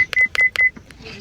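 Three short electronic phone keypad beeps in quick succession, each a bright steady tone with a clean stop, followed by a couple of fainter clicks and a quiet tail, with no talking.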